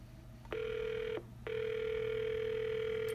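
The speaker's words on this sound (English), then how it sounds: "So right now this cell phone should start ringing" A Cisco SPA504G desk phone plays a ringback tone while a call connects, two steady electronic tones, the first brief and the second sustained, over a faint background hum.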